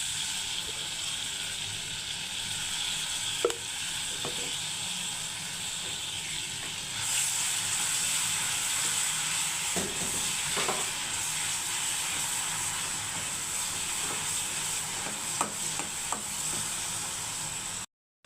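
Tamarind paste frying in oil for an egg pickle, a steady close sizzle and hiss that swells louder partway through, with a few faint knocks of stirring and no talk.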